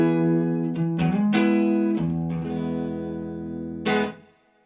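A 1994 Korean-made Squier Fender Telecaster plays distorted chords through an amplifier, several strums ringing out with a washy reverb tail, alone and fairly loud.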